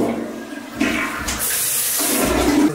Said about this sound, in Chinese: 冲水的也是好的